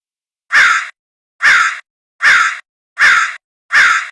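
A child imitates a crow with five evenly spaced, harsh caws, loud and close, separated by clean silence.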